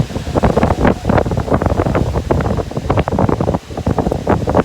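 Strong wind blowing outdoors on a farm, buffeting the microphone in loud, gusty bursts that rise and fall continuously, with no one speaking.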